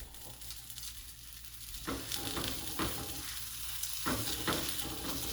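Store-bought flatbread topped with cheese frying in a pan, a steady close sizzle with stirring scrapes and soft spatula taps throughout, no talking.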